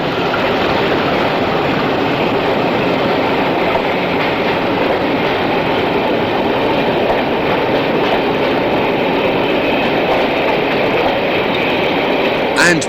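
A British Rail Class 50 diesel locomotive in Network SouthEast livery departs Exeter St David's, giving a loud, steady engine roar and rumble close by, with faint clickety-clack of wheels throughout.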